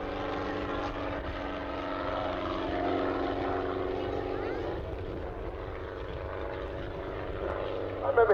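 A Schweizer 300 helicopter at an air festival drones steadily at a moderate distance, a continuous rotor and engine hum that rises slightly and fades, with no speech over it.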